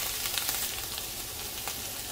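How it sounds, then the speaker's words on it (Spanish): Chili and squash sauté together in a pan, giving a steady, close sizzling crackle with a few light stirring scrapes and no voices. "Vamos a guisarlos aquí junto con la calabaza."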